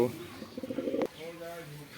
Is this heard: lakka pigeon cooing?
yes